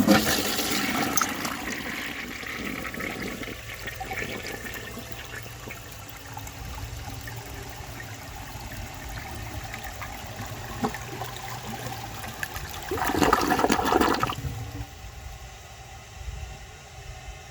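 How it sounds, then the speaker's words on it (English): 1960 Rheem-Richmond Claymore toilet flushed with a dry bowl: a rushing, gurgling surge of water near the start settles into a long trickling refill, with a second noisy burst of draining water late on, heard up close without talk. "For the first flush test, let's see how it flushes with a dry bowl."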